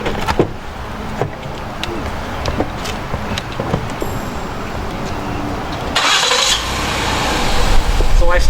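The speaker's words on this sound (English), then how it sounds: "I start my car and make sure that all the equipment's on my car" A car engine starts and settles into a steady low rumble, rising slightly toward the end, heard close with some background clatter and no talk.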